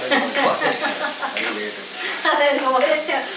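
Okra (ladies finger) sautéing in a pan on a stove, a steady sizzle with stirring scrapes running throughout, close and fairly loud, with a voice talking over it.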